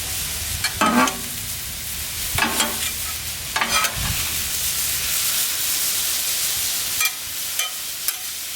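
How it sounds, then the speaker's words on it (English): Chicken browns on a flat griddle with a loud, steady sizzle. A few sharp scrapes from a spatula come early on and near the end, and no one speaks. "I want to brown it, but I also don't want to dry it out."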